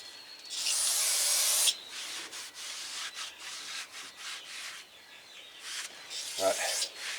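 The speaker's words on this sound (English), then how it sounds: "Hooking up a compressor, blowing the piston out." Compressed air from a compressor blows the piston out of a front brake caliper on a 2005 Land Rover LR3. A loud sustained hiss opens the clip, then shorter bursts of rushing air and rubbing follow, close by.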